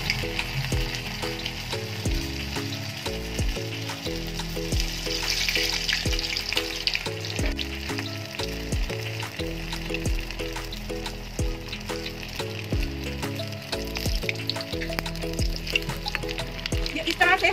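Potato-stuffed bread rolls dropped into hot oil in a home kitchen, a soft continuous sizzle and bubbling heard beneath steady background music.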